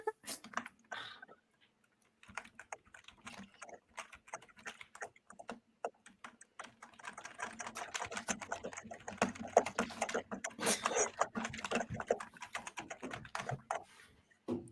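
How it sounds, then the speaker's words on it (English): Fast, vigorous typing on a computer keyboard, a dense run of clicking keystrokes that starts sparse and builds into a sustained, busy clatter at close range, with no voices. "Like the vicious typing that's coming out"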